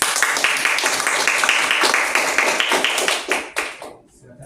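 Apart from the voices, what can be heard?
classroom applause for the judge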